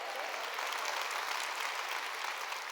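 A church congregation claps together in a sustained, even burst of applause, fairly loud and continuous with no voices standing out.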